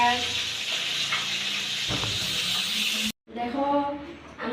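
Rohu fish fries in a pan with a constant hissing sizzle under a voice, cutting out for a moment near the end before the frying and talk resume.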